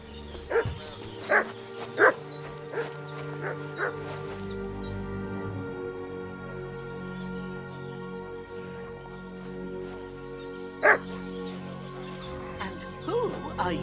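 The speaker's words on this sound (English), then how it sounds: "What's that dog making such a fuss about?" A dog in the video game Kingdom Come: Deliverance 2 barks and yips in scattered bursts, some sharp and loud, over a continuous bed of game music, with voices talking now and then.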